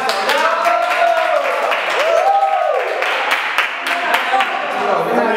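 Group applause at a backstage photo shoot, steady clapping from a small crowd of people with voices talking over it throughout.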